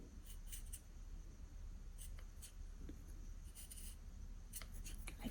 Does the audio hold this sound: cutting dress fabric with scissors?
yes